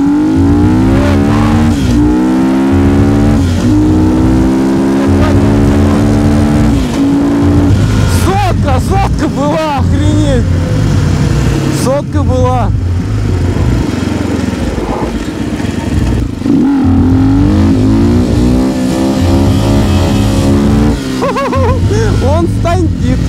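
Enduro motorcycle engine revs and climbs through gears while riding on asphalt, a loud, close, continuous buzzing drone that rises and falls in pitch, with voices talking over it.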